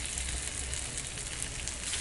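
Pomfret fish frying in about three tablespoons of oil on a flat tawa, giving a steady, even sizzle with a bright hiss and no voices, unbroken for the whole stretch.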